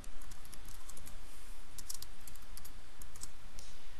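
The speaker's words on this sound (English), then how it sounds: "we will begin typing the text" Tab text being typed at the control panel of a bizhub 601/751 copier: a quick, steady run of close, crisp key clicks with no talk.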